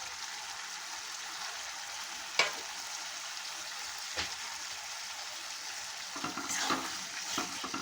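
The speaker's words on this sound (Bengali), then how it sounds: "এখন আমি সেদ্ধ করা চর্বিগুলো আমি দিয়ে দিচ্ছি।" Boiled goat fat sizzles and fries in spice masala for matar ghugni, with a steady close crackle broken by occasional scraping stirs of a spoon in the pan.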